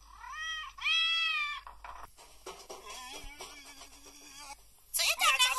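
Cartoon cat meowing from The Simpsons, several drawn-out, wavering meows in succession, fairly loud and close, followed by a brief stretch of dialogue with music before a sharper yowl at the end.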